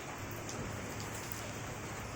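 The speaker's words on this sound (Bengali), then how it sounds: "বৃষ্টি ঝরঝর করে পড়ছে" Heavy rain pours down steadily in a dense, even hiss with no pauses, close and fairly loud, with no voices.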